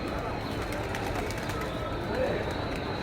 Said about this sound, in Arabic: الحمام شكله حلو قوي. بصوا الحمام عامل ازاي.